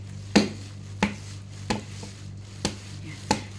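Olives are pounded to crack them for an appetizer, giving six firm, close thumps spaced a little over half a second apart over a low steady background hum.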